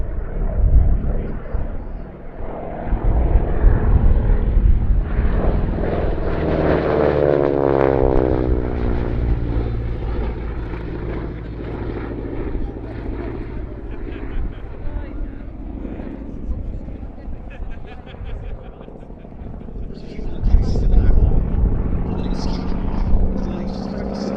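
A North American AT-6 Texan propeller trainer flies past at a Shuttleworth air display. Its loud, throaty radial-engine drone swells and fades with a sweeping pitch shift as it passes overhead, and a commentator talks over it.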